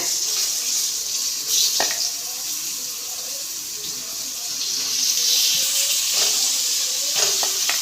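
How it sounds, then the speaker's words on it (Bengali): Pointed gourd sizzles in mustard oil in a wok, giving a steady bright hiss of frying with a few soft clinks and stirs over it, close up and without talk. "পটলগুলো ভালো করে ভেজে নিতে হবে।"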